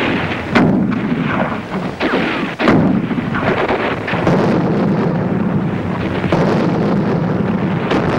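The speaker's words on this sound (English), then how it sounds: "The veteran German troops bar the way with a crossfire of mortar and machine gun fire" Mortar and machine gun fire in a WW2 crossfire near the Rhine bridgehead: sharp, loud reports and thumping blasts break out repeatedly over a constant roaring, wind-buffeted din.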